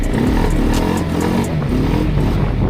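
An X-Land 300cc ATV with a single-cylinder upright engine revs loud and close, its steady low engine note rising and falling with the throttle and a slight rattle running through, with no talking.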